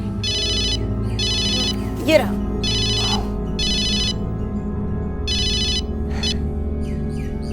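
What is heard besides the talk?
mobile phone ringtone ringing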